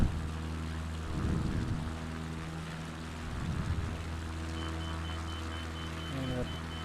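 Propeller plane at full throttle in Microsoft Flight Simulator 2020, a steady droning engine roar with low harmonic hum that swells and pitches slightly as the throttle holds, running continuously for the whole stretch.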